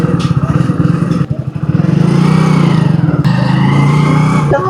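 A motorcycle with a faulty self-starter chugs loudly up close in rapid, throbbing pulses, briefly faltering before catching again and running in a steady, rough idle.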